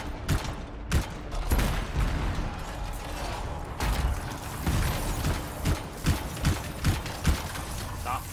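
Weapons firing during a fight in the video game Anthem: repeated bursts of gunfire with mechanical clanking and ratcheting, loud and close, with voices partly under the action.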